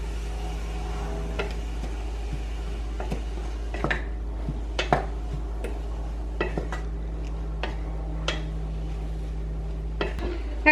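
A dumpling filling cooking down in a pan with maple syrup, with scattered clinks and scrapes of a utensil against the pan over a low steady hum, no voices.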